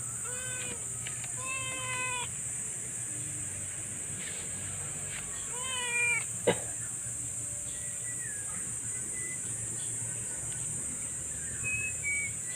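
A cat meows several times in short, rising cries, close by, over a constant high-pitched hiss and quiet background noise.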